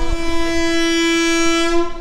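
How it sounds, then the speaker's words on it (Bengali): The Hazarduari Express sounds a long, loud, steady horn blast as it departs Bhagwangola station, one sustained tone held for about two seconds. "ট্রেন হর্ন দিয়ে দিয়েছেন, ভগবানগোলা থেকে ট্রেনটা ছেড়ে যাচ্ছে।"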